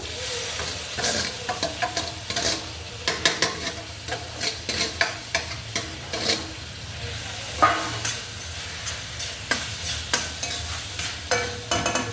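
Chopped tomatoes frying in a pan for a bitter gourd curry, stirred with a rhythmic series of scraping, clattering strokes over a continuous sizzle, close and fairly loud.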